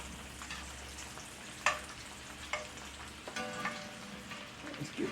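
Potatoes and onions frying in a pan and being stirred, a steady soft sizzle broken by a few scraping, clattering stirs.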